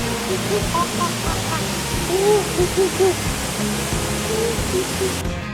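Broad, steady roar of rushing water from a waterfall beside a river in Dominica fills the scene while faint voices talk underneath.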